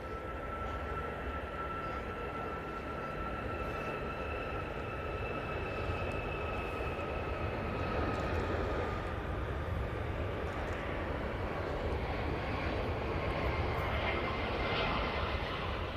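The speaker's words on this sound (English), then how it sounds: "There we go, the Ryanair 737 MAX 8." Sustained roar of a Ryanair Boeing 737 MAX 8 jet at Manchester Airport, a broad engine rumble with faint whining tones that swells slightly and holds steady from a middle distance, with no talk.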